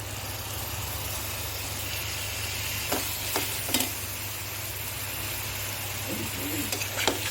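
Tomatoes cooking with softened onions in a pan for a gravy curry, a steady low sizzle over a background hum, broken by several sharp scrapes and taps of a stirring spoon.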